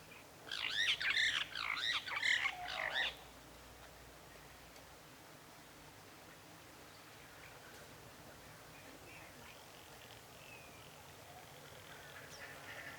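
Birds squawk near a black-backed jackal on safari, with a loud cluster of harsh overlapping calls in the first three seconds, then a quiet outdoor hush with faint distant calls.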